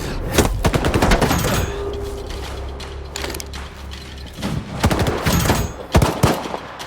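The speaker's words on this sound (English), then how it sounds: "Why are they shooting at us?" Bursts of gunfire rattle through a tense cutscene in S.T.A.L.K.E.R. 2: Heart of Chornobyl, sharp repeated shots and clattering mechanical noise arriving in clusters over a low rumble, loud and close with no talk.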